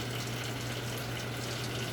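Tap water runs steadily over a microscope slide to rinse off stain during a Gram stain procedure, a continuous close hiss of flowing water with no talk.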